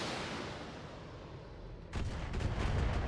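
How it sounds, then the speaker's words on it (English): Missile volley launched in the mech combat game Battletech: a steady low rumble, then at about two seconds a loud burst of rapid, overlapping launches and blasts swelling into a heavy rolling roar, with no voices. "I will fire 1 volley of missiles at it"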